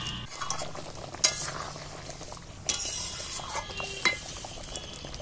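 Spices sizzle quietly in oil as tempering for aloo dum, a soft crackle under several sharp metallic clinks of a spoon against the pot, close but faint overall, with no talking.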